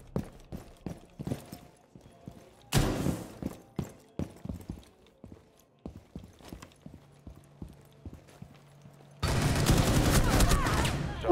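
Gunfire in Rainbow Six Siege: sharp gunshots crack out one by one, then a dense burst of rapid automatic fire near the end, with footsteps-like clopping between shots.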